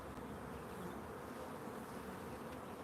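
Quiet, steady buzzing of a large honeybee colony rises from an opened hive during inspection, a soft continuous drone with no voices.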